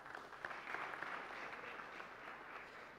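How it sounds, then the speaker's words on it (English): Audience applause at a digital assets launch event, steady clapping from a crowd for presented companies, sustained and fairly faint throughout with no talk. "Kindly give them another round of applause."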